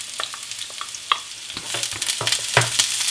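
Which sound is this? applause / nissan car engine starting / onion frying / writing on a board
onion frying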